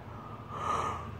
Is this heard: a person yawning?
yes